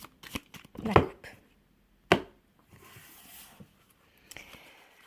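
Tarot cards are cut and shuffled close by in short, crisp riffling bursts with soft slaps between them, followed by quieter handling and a faint voice.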